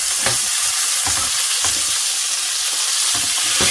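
Butter melts over low heat beside a nearly cooked steak, producing a constant, loud, close-up sizzling hiss with faint intermittent spatters and soft pan knocks throughout.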